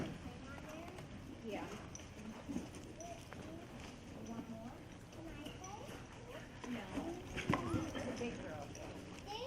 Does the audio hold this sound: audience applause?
no